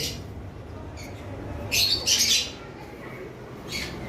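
Lovebirds kept in a collection give short harsh squawks, a few bright bursts close by over a low background hum, with a pause between calls.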